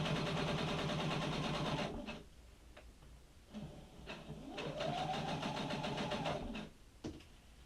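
Slow seam stitching on a welder's four-panel cap comes from a sewing machine. The motor whirs in close bursts, rising and stopping with brief pauses between runs.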